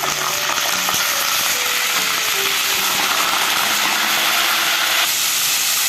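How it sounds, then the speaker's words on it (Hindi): Chicken pieces for a white karahi fry loudly in hot oil, a close, dense and continuous sizzling hiss throughout, with no voices. "जैसे ही हमारा ऑयल गर्म होगा, उसमें हम जो गोश्त लिया था हमने, उसको डाल के फ्राई करेंगे"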